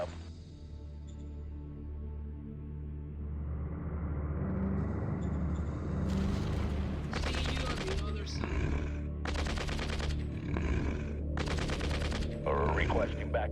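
Video game battle gunfire in the strategy game Shadow Empire: a low engine-like rumble builds, then loud bursts of automatic fire crackle in repeated volleys alongside occasional speech.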